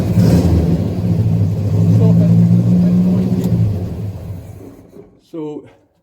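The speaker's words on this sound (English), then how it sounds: "you can run the engine in this situation now. You can start the engine up." Engine of a Nova Sterling Eureka kit car running steadily with a loud, low rumble, then cutting off, followed by a brief voice in the quiet.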